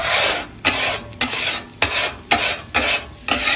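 A metal scraper rasps across a Blackstone griddle in about six regular strokes, each a loud close scrape lifting browned bits off the hot flat-top.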